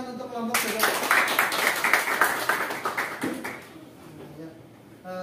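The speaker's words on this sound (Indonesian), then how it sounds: "Yuk, beri tepuk tangan untuk kelompok juga." A classroom group claps for a student presentation, a burst of rapid hand claps that starts abruptly, holds for a few seconds, then fades into quieter room sound.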